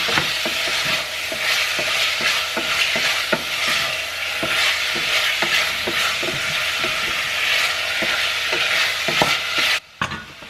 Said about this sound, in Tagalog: Hintayin lang natin mag-brown yung meat.